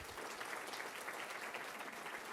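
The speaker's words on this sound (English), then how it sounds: "Big round of applause." Steady, dense applause from an audience at a government economic update event in British Columbia, sustained at an even level throughout with no pauses.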